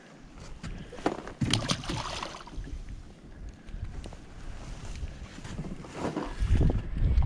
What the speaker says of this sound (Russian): Короче, у нас поднялся ветер.